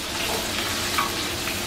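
Water hits frying shallots in a pan for a spiced fish soup, giving a loud, dense, close sizzle with a steady hiss and crackle and a faint stirring scrape.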